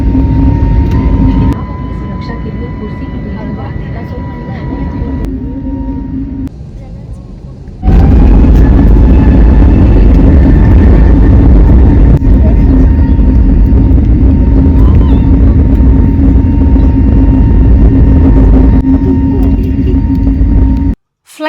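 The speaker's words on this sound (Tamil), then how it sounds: "ஃப்ளைட் டேக் ஆஃப் ஆகும்போது" A passenger airplane on its takeoff roll, a loud steady roar of engines and cabin rumble building and holding close around the listener, with a brief quieter dip partway through.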